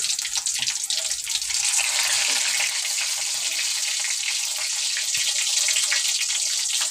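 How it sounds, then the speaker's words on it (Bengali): Lentil badi made from maskalai fry in oil in a pan, producing a loud, continuous close-up hiss and sizzle throughout. "তো খুব সুন্দরভাবে তো ভাজা হচ্ছে ভাই। হ্যাঁ, এটা ভাজতে হবে আগে।"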